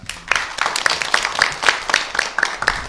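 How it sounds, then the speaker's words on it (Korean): An audience at an academic forum applauds to welcome a neuroscience professor, a moderately loud, ragged patter of many hands clapping with distinct individual claps standing out throughout. "큰 박수로 맞이해 주시기"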